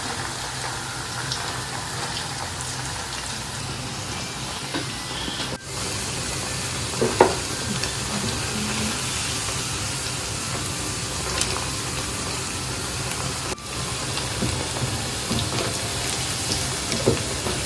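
Gobi manchurian (cauliflower pieces) frying in hot oil gives a steady, close sizzle and crackle that holds for the whole stretch, with a few sharper pops and stirring scrapes now and then, and nobody talking.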